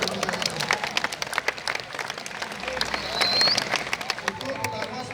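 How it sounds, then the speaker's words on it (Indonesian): An audience at a high school gathering applauds the organizing committee, a moderately close burst of clapping with a few louder claps standing out over crowd murmur and talk. "Tepuk tangan untuk panitia yang sudah."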